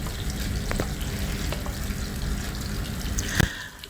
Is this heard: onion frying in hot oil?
yes